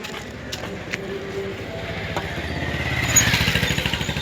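A motorcycle draws near, its rhythmic engine thumping growing steadily louder and closer over a few seconds against faint outdoor background noise.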